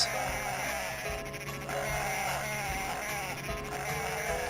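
Sheep bleating in the Dreamcast video game Cool Herders, repeated bleats over a dense, constant layer of game music and effects, with the whole mix loud and slightly harsh throughout.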